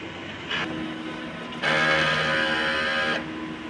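A sublimation printer runs a head clean, whirring and humming in mechanical stages, a softer motor run followed by a louder sustained buzzing pass that stops abruptly; close, no speech.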